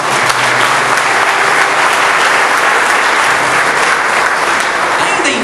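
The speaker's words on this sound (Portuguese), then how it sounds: "Aplauda o Senhor mais uma vez." A church congregation applauds loudly and steadily throughout, a dense, sustained wash of clapping from many hands with no break.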